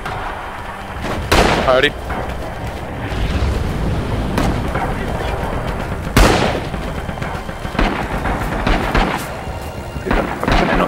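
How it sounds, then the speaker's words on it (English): Artillery barrage in the video game Rising Storm, with heavy booming impacts and rolling rumbles at irregular intervals, several sharp close blasts, and a brief spoken word over the din. "We need artillery at this location!"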